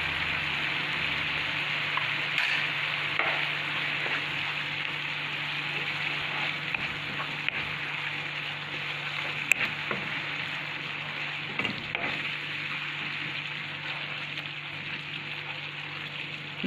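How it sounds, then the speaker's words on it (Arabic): Steady crackling sizzle of a cauliflower, potato and cheese omelette mixture frying in a pan, a dense, even hiss running throughout with no voices. "نخلي هكا يتقلى شوية واحد الخمس دقايق"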